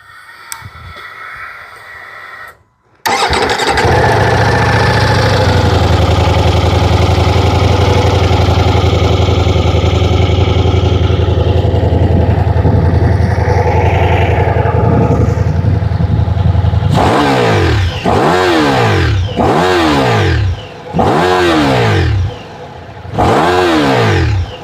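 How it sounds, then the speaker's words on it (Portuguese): A Ducati Diavel V4 motorcycle engine starts after a short whir, then idles loud and steady for about fourteen seconds before four sharp revs climb and fall back, with a brief pause between the last two. "sei que vocês estão curiosos para ouvir o som desse motor aqui"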